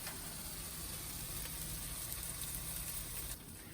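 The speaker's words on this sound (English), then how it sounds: "Hear that sizzle" Steady, dense crackling hiss of a burger bun toasting face down in a hot pan, continuous and close, easing slightly at the very end.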